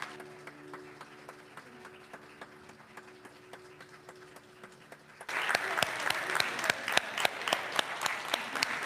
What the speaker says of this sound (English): let's give Logan another round of applause.